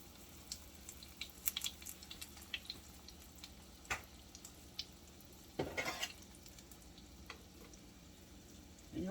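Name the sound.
donut balls made from biscuits frying in grease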